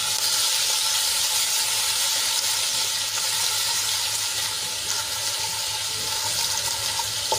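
Garlic and chilli paste with a pinch of asafoetida sizzles in hot oil in a pan, a steady, close hissing fry heard alone throughout.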